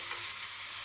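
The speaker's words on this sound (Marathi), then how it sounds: "कांदा सुद्धा छान आपल्याला तेलामध्ये परतून घ्यायचा आहे" Onion being sautéed in oil in a pan, a soft steady sizzle that stays close and even through a brief moment, with no voices.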